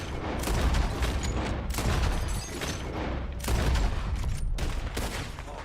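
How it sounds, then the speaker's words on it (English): Rapid gunfire from a bottle-shooting contest in Red Dead Redemption 2, a volley of close, loud shots in quick clusters with brief pauses between bursts. "The one who shoots the most bottles wins."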